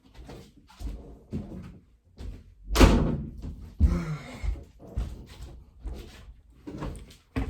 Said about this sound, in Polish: Tylko zamknę drzwi.